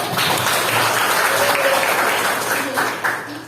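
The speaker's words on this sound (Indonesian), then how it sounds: "tepuk tangan buat Tiara" A classroom audience claps for a few seconds, a dense, steady burst of applause with voices mixed in, fading slightly toward the end.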